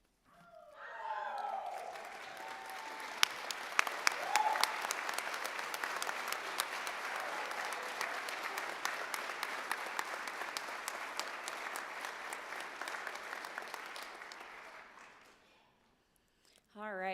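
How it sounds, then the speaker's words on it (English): Graduation-style applause at a sonography pinning ceremony: a crowd swells into sustained clapping with a few louder nearby claps and faint cheering, holding steady before dying away, with brief voices at the start and end. "I know everybody just applauded"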